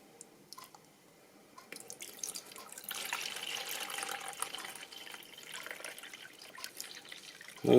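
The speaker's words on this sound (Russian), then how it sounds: "Вот, воду из фильтра наливаю." Filtered water pours into an Oursson CM0400G drip coffee maker in a steady, gentle trickle that builds after a quiet start, ending with a sharp knock.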